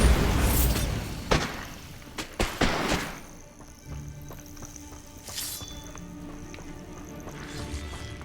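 A Bombarda blasting spell goes off in Hogwarts Legacy, a loud booming burst that is followed by several heavy thuds before fading into quieter ambience.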